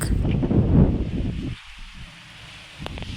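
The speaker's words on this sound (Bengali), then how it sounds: "হাওয়ার যা স্পিড আজকে কিচ্ছু বুঝতে পারবেন না এখানে না এলে" Strong sea wind on the coast at Mandarmani buffets the microphone in a loud rushing roar, then drops suddenly to a quieter hush before gusting up again at the end.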